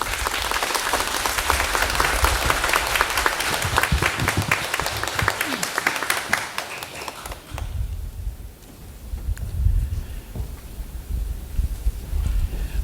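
Warm, full applause from a church congregation welcoming a guest minister rings out loudly for several seconds, then tapers off and gives way to quieter room sounds.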